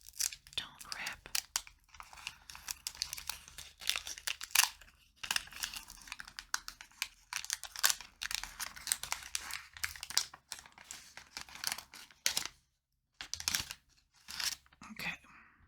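A tarot card deck's wrapping is opened up close, with crinkling and tearing plastic and cellophane in sharp irregular bursts, some brief pauses, and soft handling noises throughout.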